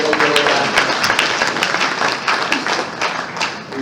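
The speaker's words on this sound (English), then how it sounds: "I will clap for them again for wonderful program." Loud, dense audience applause rolls through the room after a panel session at a Ghana SDG roadmap event, many people clapping steadily and close for the full stretch with a faint murmur of crowd underneath.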